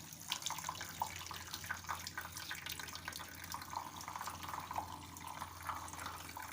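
Water sprays gently over the cooling coil of an ALCO portable air conditioner during cleaning, a continuous close hiss with splashing and dripping and no talking.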